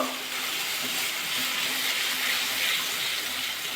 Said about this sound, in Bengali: এবার গরম জল অ্যাড করে দেবো